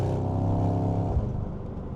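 Mercedes-AMG GT63 coupe with a 9-speed transmission revving hard through a gear change, its engine a loud, continuous, rich roar heard from inside the cabin, with a brief dip in pitch at the shift before pulling on again.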